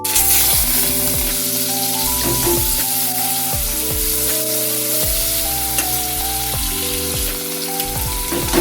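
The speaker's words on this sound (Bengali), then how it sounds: "সর্ষের তেল দিয়েছি তেলটা গরম হয়ে গেছে এবার মাছগুলো ছেড়ে দিচ্ছি" Loud, steady sizzling of prawns frying in hot mustard oil, a dense crackle running throughout with occasional sharper pops, close up and with no voices.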